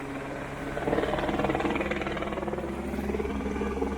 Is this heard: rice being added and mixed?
no